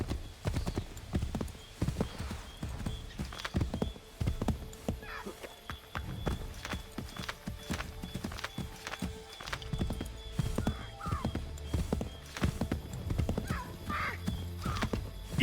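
A horse gallops with a quick, continuous clip-clop of hooves and lets out several whinnies in the Assassin's Creed 3 video game, with game ambience behind the hoofbeats throughout.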